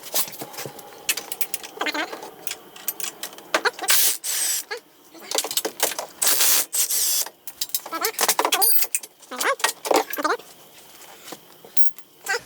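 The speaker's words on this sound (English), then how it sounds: "Daniel, you want to run this wrench?" A wrench working on bolts while stock A-arms are removed from an ATV, with bursts of metallic clicking and ratcheting in irregular runs, interrupted by short pauses and occasional talk.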